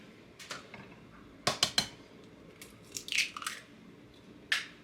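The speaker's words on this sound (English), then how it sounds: "Now I'm adding the eggs." Eggs go into gluten-free banana bread batter in a mixing bowl: a few sharp cracks and clinks against the bowl, then softer wet squishes, close by and with no talking.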